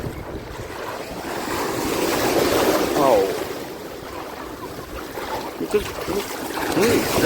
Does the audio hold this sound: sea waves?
yes